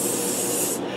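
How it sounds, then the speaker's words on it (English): A spray paint can hisses in one steady, loud burst of aerosol that runs close up and cuts off abruptly just before the end. "We got spray paint cans"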